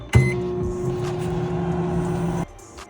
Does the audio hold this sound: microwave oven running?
yes